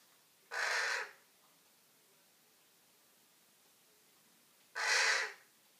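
Two harsh, raspy crow calls, well apart, stand out clearly against a quiet, faintly hissing background.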